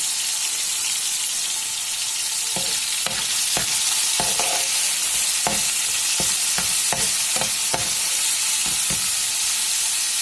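Baby potatoes with salt and turmeric powder are stirred in a pan, a steady bed of sizzling under repeated sharp scraping strokes of the spoon against the pan, close and loud, with no talking.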